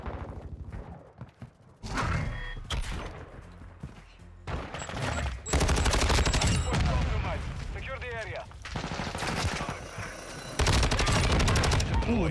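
Loud gunfire from the video game Modern Warfare 2, with bursts of automatic fire and heavy booms filling most of the stretch, broken by brief lulls, while a player talks over the shooting.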